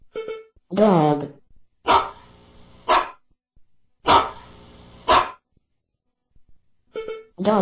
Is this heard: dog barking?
yes